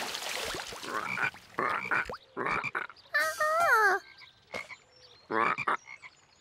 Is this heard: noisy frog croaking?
yes